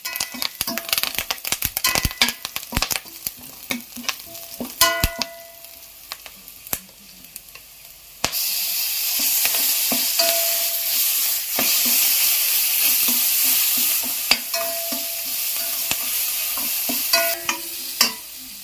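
Steady oil sizzle from a pan as slit green chilies sauté after ginger-garlic paste for vegetable kurma, with stirring clatter and scraping at first, then a loud continuous frying hiss.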